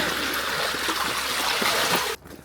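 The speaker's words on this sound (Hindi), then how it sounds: "पानी क्या जोर से कूद रहा है यहाँ" Water rushes and splashes steadily in a stream in a foggy area near a snow monkey park, a close, continuous trickling wash that suddenly cuts out near the end.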